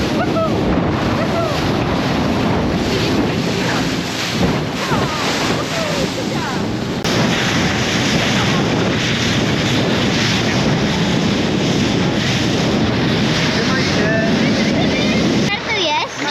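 A small boat riding with the swell off Madeira, a dense continuous roar of wind buffeting the microphone over rushing waves and engine rumble, loud and unbroken throughout.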